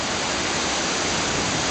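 Steady, loud roar of the Kuang Si waterfall in Laos, a dense broadband rush of falling water that stays constant throughout, with no voices.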